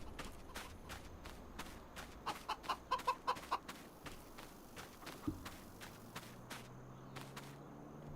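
Chickens in the Farming Simulator 25 game, faint clucks and short bursts of fowl calls scattered across the stretch, with a quick run of pecking clicks midway and a low hum setting in near the end.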